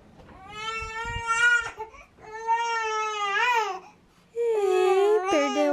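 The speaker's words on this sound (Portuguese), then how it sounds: "Tô escutando um neném chorando." A baby cries in long, loud, close wails with brief breaths between them. The crying is heard alone in a quiet room.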